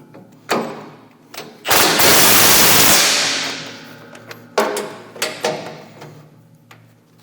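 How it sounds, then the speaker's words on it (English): An impact gun with a socket tightens the bolts on the steel cutting edge of a MUSKOX snowblower, giving one long buzzing rattle between sharp clanks and knocks of work on the machine. "now I'm going to take my impact gun with an 1/16" socket on it"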